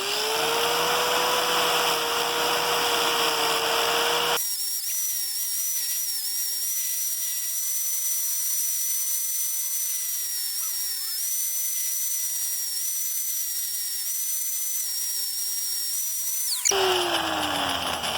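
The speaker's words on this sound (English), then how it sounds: "I'm just going to use a wire brush on a grinder to clean it up." A wire brush on an angle grinder scrubs rusty suspension hardware from a BMW E61 Touring, a steady high-pitched whine and hiss that runs for many seconds. Pitch dips slightly under load before the tool winds down.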